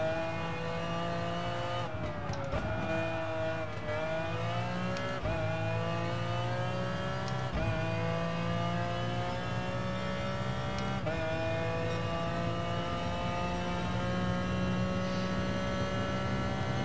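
A race car engine in GT Sport on the Autopolis circuit revs and shifts steadily, with rising whines broken by gear changes through the clip and no voices.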